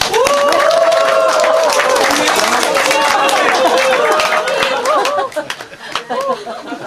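A church congregation claps and cheers over lively chatter and voices during a Sunday service, the applause thinning out toward the end.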